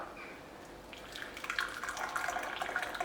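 Boiling water poured over couscous and bulgur wheat in a bowl, a soft steady liquid trickle that grows slightly louder and splashier after the first second, with no talking over it.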